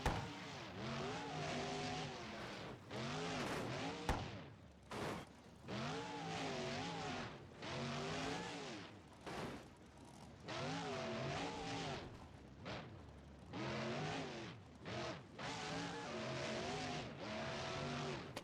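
A loud monster truck engine in the video game BeamNG.Drive revs repeatedly, rising and falling in pitch through several gear-like sweeps, with brief drops between bursts, close and continuous.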